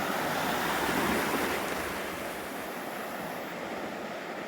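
Sea waves wash steadily as a broad, continuous rushing surf, moderately distant and unbroken, with some wind in the background.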